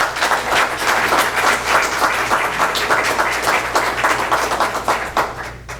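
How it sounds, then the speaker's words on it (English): A crowd applauds at a State of the Village meeting in El Portal, Florida. The clapping is loud and steady and thins out at the end. "That deserves a round of applause."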